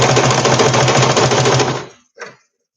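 A sewing machine stitches a seam in a steady, fast rhythmic whir for almost two seconds, close and loud, then stops with a brief mechanical clunk.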